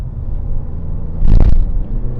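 A Mazda 6 engine gives a brief, loud surge as the throttle opens, a deep rumble swelling for about a quarter second over a steady low idle-like drone, heard alone without talk.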